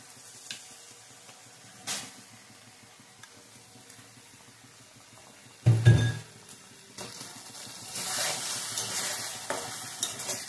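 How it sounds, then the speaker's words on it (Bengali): Fried eggs dropped into mustard paste in a hot pan, sizzling softly with clinks and stirring scrapes, including a sharp loud burst midway and a stronger hiss toward the end. "ডিমগুলো ভাজা ডিমগুলো দিয়ে দিলাম।"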